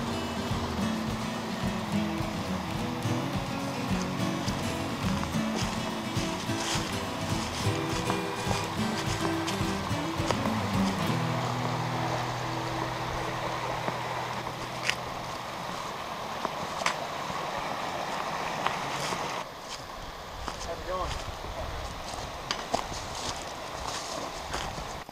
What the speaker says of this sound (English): And back down by the creek again.